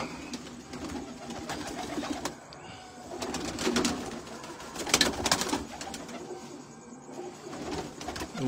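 Pigeons coo in soft repeated bursts at moderate distance, the calls rising and falling over a quiet outdoor background, with no talk.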